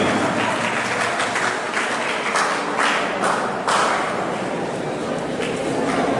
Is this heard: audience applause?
yes